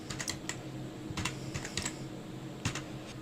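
Someone types a name on a computer keyboard while entering a purchase voucher in accounting software: quiet, close clusters of quick keystrokes separated by brief pauses.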